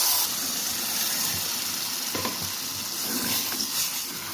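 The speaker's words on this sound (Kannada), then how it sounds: "ಇವಾಗ ರವೆ ಹಾಕಿರೋ ಕಪ್ಪಲ್ಲೇ 2 ಕಪ್ ನೀರು ಹಾಕ್ಕೊಳ್ಳೋಣ" Water is poured into a hot pan of roasted semolina and hisses and sizzles steadily, with bubbling and splashy bursts partway through, close and fairly loud.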